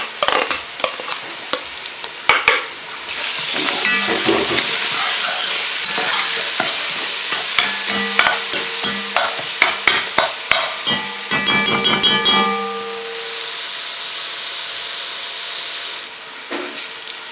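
Crushed garlic, chili and ginger hit hot oil in a pan with a loud, sustained sizzle, while a utensil stirs and clinks against the metal in quick irregular taps before the hiss settles.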